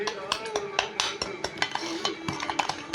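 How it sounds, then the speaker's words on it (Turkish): A wire whisk or spoon beats quickly in a bowl, producing a steady run of bright metallic clinks and scrapes that sounds close and moderately loud. "tel çırpıcıyla veya kaşık yardımıyla böyle bir çırpacaksınız"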